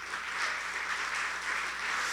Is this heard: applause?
yes